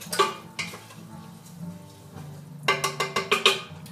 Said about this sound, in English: So now to this pot, I'm going to add my sauteed vegetables.